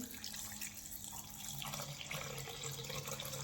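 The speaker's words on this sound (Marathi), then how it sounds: "आता त्यामध्ये पाणी घालून" Water is poured into a cooking pot holding chopped onion and cashew pieces, a continuous close splashing pour with no talk over it.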